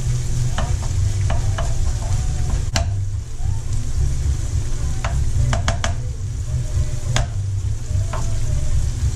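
Food sautéing in bacon fat and butter for a stuffed steak dish, a loud continuous sizzle with sharp utensil clicks and scrapes against the pan at irregular intervals.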